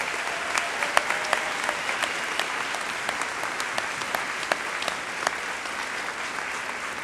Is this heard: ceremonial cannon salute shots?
no